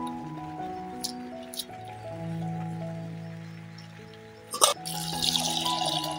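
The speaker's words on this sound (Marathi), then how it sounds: "अर्धी वाटी डाळ आहे तर 1 वाटी पाणी टाकते" Water poured into a pressure cooker holding lentils and onion, a short splashing pour near the end, heard over steady tonal music in the background.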